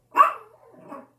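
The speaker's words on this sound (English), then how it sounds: "I'm trying to break Boogie of a lot of his barking" A dog gives one sharp, close bark followed by a softer, trailing grumble, isolated against a quiet background.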